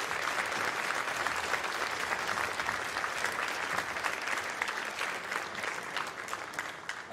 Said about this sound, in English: Let's give all those teachers a round of applause.